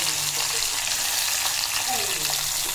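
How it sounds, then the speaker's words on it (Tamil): Onions sizzle and fry in hot oil with mustard seeds and curry leaves for sambar, a steady close crackling hiss with occasional stirring. "நல்லா வெங்காயம் வதங்கிடுச்சு."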